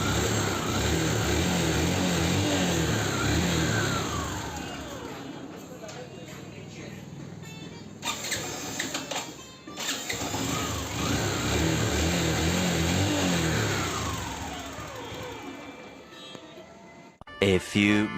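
A Suzuki Hayate motorcycle engine runs after being started with the self-starter, with a steady close rumble, a brief dip and cut partway through, then it resumes before a few sharp knocks at the end.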